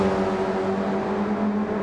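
A saloon car engine in Gran Turismo 7 holding a loud, steady, droning tone under heavy throttle during an oval race, with no talking.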